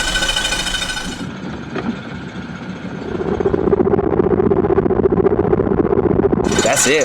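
A repaired Suzuki DF15 outboard motor runs in reverse, a steady close mechanical drone with a rattling buzz that swells and holds, with brief higher noise at the start and end.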